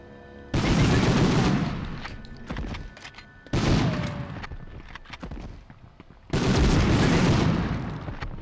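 Loud blasts and bursts of gunfire from the PS1 Medal of Honor game arrive in three heavy waves, each a booming explosion followed by rattling shots and debris, with quieter gaps between.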